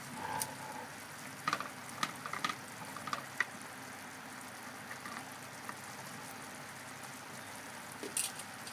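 Ginataang langka, jackfruit in coconut milk with meat, simmers and sizzles softly in a pan while a spoon stirs it, giving occasional faint scrapes and clinks over a steady bubbling hiss.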